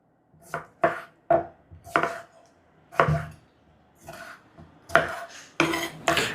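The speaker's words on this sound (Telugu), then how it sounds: "ఇప్పుడు 2 మీడియం సైజు టమాటాలని కూడా కట్ చేసుకుందాం." A knife chops two medium tomatoes on a cutting board while a vegetable pulao is prepared, giving about a dozen sharp, close taps in uneven clusters with short pauses between them and no talking.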